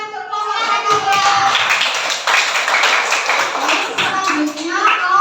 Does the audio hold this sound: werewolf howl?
no